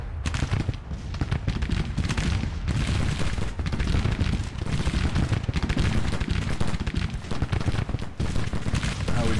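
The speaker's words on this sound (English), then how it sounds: "you can see the flames and the smoke coming from the guns" Civil War-era guns in the video game Grand Tactician: The Civil War fire in a dense, continuous battle din, with overlapping musket volleys and booming shots rolling without pause.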